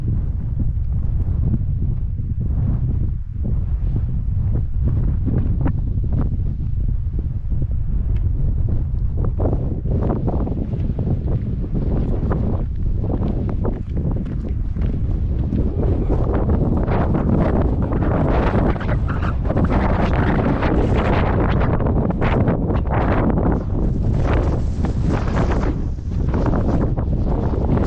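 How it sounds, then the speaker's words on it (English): Loud, continuous wind buffeting a microphone in the South Dakota Badlands, rumbling and roaring throughout with gusts rising and falling. "Sorry about the wind."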